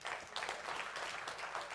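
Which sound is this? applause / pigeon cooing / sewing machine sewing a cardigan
applause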